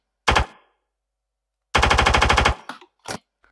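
Gunfire: a single short shot, then a rapid machine-gun burst, followed by two brief separate shots, loud and close.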